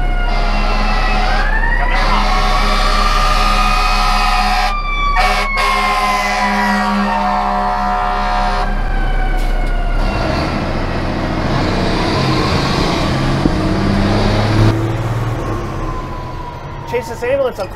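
A wailing ambulance siren sweeps up and down over loud traffic rumble, close and prominent, with some talking mixed in.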